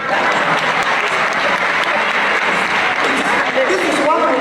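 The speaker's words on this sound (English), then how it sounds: "Clap for us." A crowd of spectators claps loudly and continuously at a Nigerian political gathering, dense applause with a few voices and cheers mixed in near the end.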